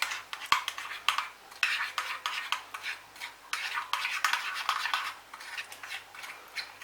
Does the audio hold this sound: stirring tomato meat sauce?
yes